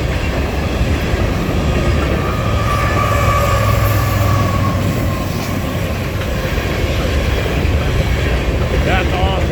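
A very long grain train with two distributed-power locomotives mid-train rumbles past at Guthrie, Kentucky, a steady loud roar of rolling freight cars with faint wheel clatter and occasional squeal throughout.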